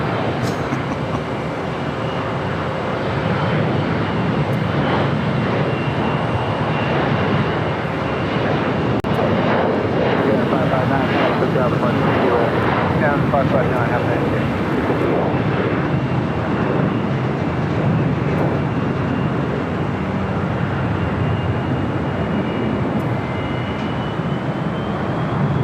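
A large airliner passing at Los Angeles International Airport, a loud continuous broadband jet roar that stays steady and dense throughout, with no speech over it.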